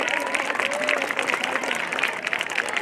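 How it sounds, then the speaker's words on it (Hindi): An audience at a school annual function claps loudly and continuously, a dense, even wash of many hands with a faint murmur of voices mixed in. "जोरदार तालियां बजाते रहें"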